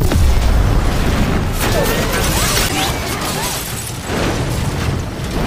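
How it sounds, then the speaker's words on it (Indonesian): A loud, deep car bomb blast rumbles and roars continuously, with crackling debris and shattering car window glass swelling through it. "Efek dari ledakan itu membuat kaca mobil Matt menjadi pecah"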